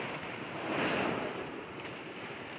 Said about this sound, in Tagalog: Grabe! Ang laki ng mga alon